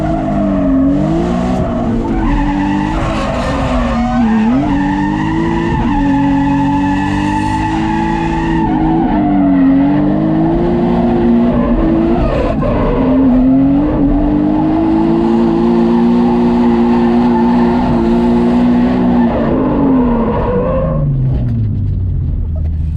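A stock car's engine revs steadily while tires squeal continuously through a long drift on a track, loud and close, with the pitch rising and falling before fading near the end.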